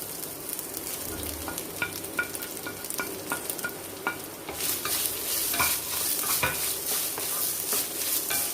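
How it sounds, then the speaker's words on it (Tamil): Grated coconut fries in a pan with cashews for coconut rice, stirred with a spoon that makes regular scraping taps over a low sizzle, and the sizzle grows brighter and fuller partway through. "இப்போ தேங்காய் நம்ம துருவி வச்சிருக்க தேங்காவை ஆட் பண்ணிக்கலாம்."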